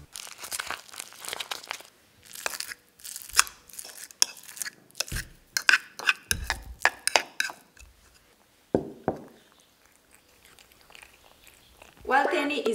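A cat eats its breakfast with close, irregular chewing and crunching, mixed with soft clinks and rustles, and quiet talk in between.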